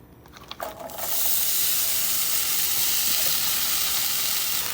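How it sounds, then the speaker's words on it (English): Diced onion cooking in hot olive oil, a loud, steady sizzle that bursts in after a second of quieter clatter and holds evenly to the end. "add in some good olive oil. Let that go ahead and cook,"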